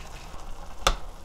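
Black soybeans cook in a sweet soy glaze in a pan over high heat, giving a soft, steady close-up bubbling sizzle with one brief sharp crackle, and no voices.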